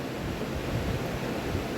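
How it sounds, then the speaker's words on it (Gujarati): Interior of a local bus on the road from Vadodara to Bhavnagar in Gujarat: a steady, loud broadband rumble of engine and road noise that fills the cabin without a break, with no voices. "આ લોકલ બસ છે મિત્ર."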